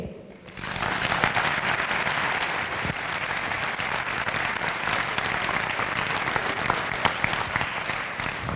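Sustained applause from an audience at an environmental forum, steady and dense from start to finish after a brief quiet opening, with no voices breaking through.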